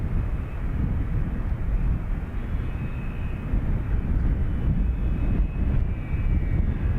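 An aircraft lines up on runway 28 right at Dublin Airport: a steady, loud engine roar that holds at an even level, heard from nearby.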